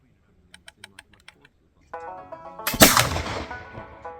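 A flintlock firearm goes off outdoors among Montana pines: a few light clicks, then one sharp, loud report that rings and fades, with a voice briefly audible before the shot.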